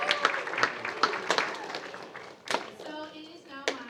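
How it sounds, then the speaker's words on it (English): An audience at a school writers' week event gives scattered, uneven hand claps, a few sharp claps at a time rather than a full ovation, mixed with voices in the room. "Round of applause for you guys."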